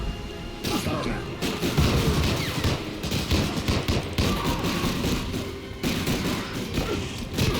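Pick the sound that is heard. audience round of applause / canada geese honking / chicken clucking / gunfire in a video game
gunfire in a video game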